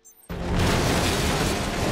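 A loud explosion erupts suddenly in the video game Resident Evil: Operation Raccoon City, a sharp boom followed by a sustained roaring rumble that fills the rest of the moment without speech.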